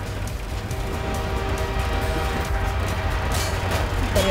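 A train rumbles past in Half-Life 2, a steady low mechanical drone with rattling that swells slightly toward the end, heard alone without talk.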